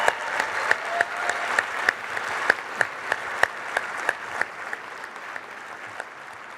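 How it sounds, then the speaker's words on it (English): An audience claps steadily through the whole stretch, dense applause with sharp individual claps standing out near the front, a sustained ovation with no talking over it. "Amy, stand up and get another round of applause."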